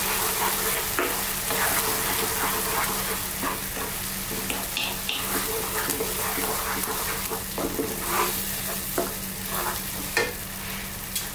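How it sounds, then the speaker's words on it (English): Chili, turmeric, cumin and coriander powders frying in a pan for prawn curry, a steady sizzle with spoon scrapes and stirring knocks scattered throughout, close by and without speech. "Now we're going to go in with those 4 powders or your curry powder mix."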